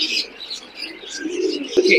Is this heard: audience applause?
no